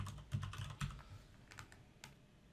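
Quiet, close typing on a computer keyboard: a few quick clusters of key clicks with short pauses between them, no voices.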